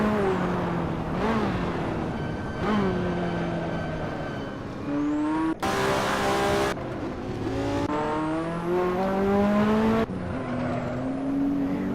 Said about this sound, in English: Oh man, this car is noisy from the inside.